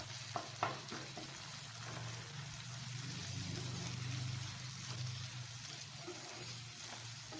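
Tomatoes frying in oil for gongura chicken curry: a soft, steady sizzle and bubbling, faint and continuous, with a brief clink early on.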